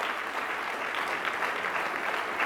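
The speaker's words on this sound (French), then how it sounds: "encore une dernière bain d'applaudissements" Sustained applause from an audience at an induction ceremony honouring a retired agronomist, steady and dense throughout with no voices on top.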